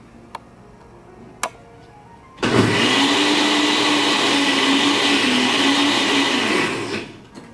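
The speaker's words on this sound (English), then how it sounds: "We're going to add 2 cloves of garlic. Blend it up." A blender whirs garlic cloves into a green drink. A couple of faint ticks come first, then the motor starts abruptly into a loud, steady high whine that lasts about five seconds before it winds down.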